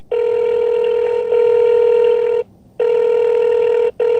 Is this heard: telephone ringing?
yes